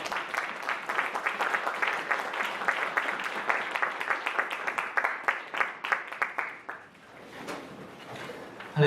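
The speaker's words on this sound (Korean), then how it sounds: "박수로 목사님 앞으로 모시겠습니다." A church congregation at a spring retreat applauds as a pastor is welcomed forward, with dense, sustained clapping from many hands that gradually thins out and fades toward the end.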